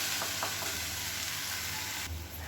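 Blended tomatoes go into hot oil in a pan and fry with a loud, dense, steady sizzle up close, the hiss shifting slightly near the end as they settle in.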